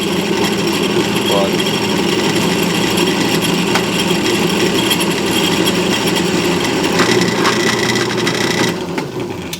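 A drill grinds loudly and continuously into metal using cutting oil, a steady close whine and rumble that cuts off near the end.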